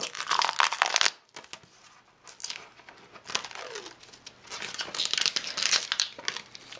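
Ten-month-old Plastidip coating peeled off a Honda dirtbike, heard as close crinkling, tearing rubbery strips with a short pause, then continued crackly peeling.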